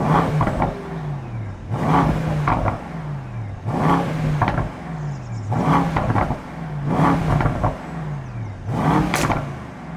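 A 2025 Mercedes-AMG S63 E Performance V8 revs in short, loud bursts, about five throttle blips spaced roughly two seconds apart, each swelling and falling away with a deep burbling roar.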